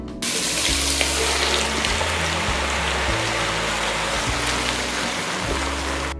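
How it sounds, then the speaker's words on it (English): Prawn heads and shells sizzle and crackle in hot oil in a pan, a dense, steady hiss over a low background hum, close and continuous throughout. "Heat the oil and add the prawn head and shells."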